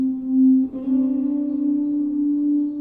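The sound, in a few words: guitar lead with heavy distortion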